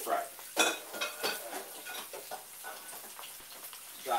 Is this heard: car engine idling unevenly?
no